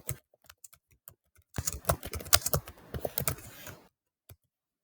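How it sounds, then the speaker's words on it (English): Fingers type on a computer keyboard, starting with a few scattered, separate key clicks, then a dense, rapid burst of close clattering keystrokes, ending with one last isolated tap. "I'll type it in the Copilot"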